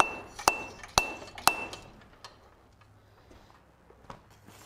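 Three sharp metallic treadle hammer blows on hot steel ring out about half a second apart, then quieter taps and clinks trail off in a forge workshop.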